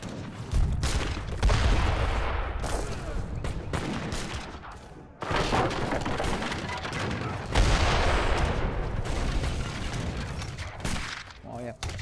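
Mortar and artillery barrages in an Age of Empires 3 Definitive team battle boom and crackle in dense, overlapping bursts with brief lulls, loud and continuous throughout the scene.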